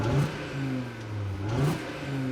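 A 2022 Audi RS3 sedan revs through its large exhausts, with two short rising and falling engine bursts heard up close at moderate volume and no talk.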